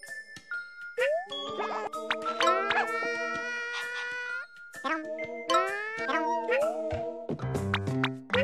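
Poochie the dog in Yoshi's Crafted World makes sustained tonal, howl-like yips and barks mixed with chiming game music, loud and close, while a person talks intermittently.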